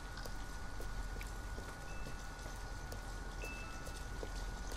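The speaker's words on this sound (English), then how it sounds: "Just walking in the rain" Steady rain falls during a walk in the video game Detroit: Become Human, a constant, fairly faint wash of drops with a faint tonal hum behind it and no voices.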